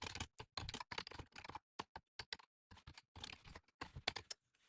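Code being typed on a computer keyboard, quick close bursts of key clicks in an uneven rhythm with short pauses, no talking.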